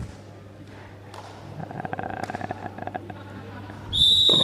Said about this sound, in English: that is the first whistle